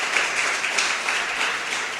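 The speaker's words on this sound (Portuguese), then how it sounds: "Dê uma salva de palmas para Jesus" A church congregation claps together during a Thursday worship service, a soft, fairly distant burst of steady applause with no one speaking.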